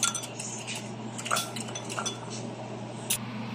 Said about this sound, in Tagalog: Hahaluin natin para hindi magbuo-buo.